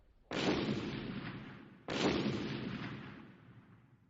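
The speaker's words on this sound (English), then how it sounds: "Every few minutes there was another explosion." Two loud, deep blasts from excavation work near a river, spaced about a second and a half apart, each with a sharp onset and a long rumbling decay.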